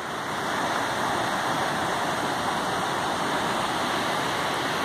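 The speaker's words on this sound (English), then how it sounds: "that roaring sound in the background is the creek that's just down this ravine" A roaring creek rushes down a snowy forest ravine, a steady, dense wash of water noise that holds at an even loudness throughout, with no voices over it.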